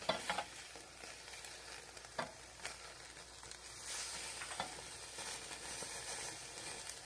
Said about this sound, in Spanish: Y así se va cocinando la carne.